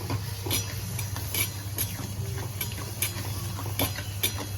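Spoon scraping and stirring yogurt into mutton kaleji masala in a pan, soft repeated clinks and scrapes at a steady rhythm over a low constant hum, fairly quiet with no talk.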